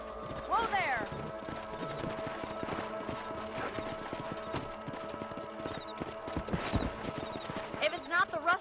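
Horse hooves clip-clop steadily on a ranch in the western game Red Dead Redemption, with a brief whinny and a few clattering knocks, while voices talk over the riding.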